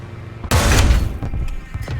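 A Sherman Firefly's tank cannon fires in War Thunder, one sudden loud booming blast followed by a rumbling decay and scattered smaller impacts and battle noise.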